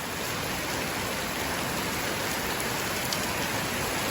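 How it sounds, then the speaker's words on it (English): Steady rain falls after a dry season of about five months, a dense, even hiss of drops on surfaces that continues without a break and with no voices. "Guess what? It's raining."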